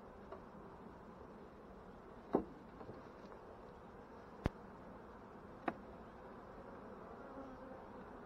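Honeybees buzz steadily around an opened hive during an inspection of struggling colonies and a brood frame, making a faint, continuous hum broken by a few sharp clicks and taps.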